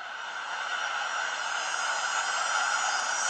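A steady, loud wash of broadband hiss plays without pause, like rushing wind or rain, from the summer weather animation sound effect of an Oppo Find 7 phone's weather app.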